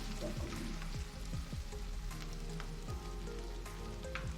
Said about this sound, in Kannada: ನಾನು ಅದಕ್ಕೆ ಬೇಯಿಸ್ಕೊಂಡಿರೋ ಆಲೂಗಡ್ಡೆ ಹಾಕ್ತಾ ಇದ್ದೀನಿ. ಇದು ಒಂದು ನಿಮಿಷ ಫ್ರೈ ಮಾಡ್ಕೊಬೇಕಾಗುತ್ತೆ.